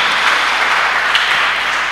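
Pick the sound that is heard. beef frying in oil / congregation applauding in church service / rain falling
congregation applauding in church service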